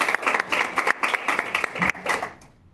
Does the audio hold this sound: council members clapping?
yes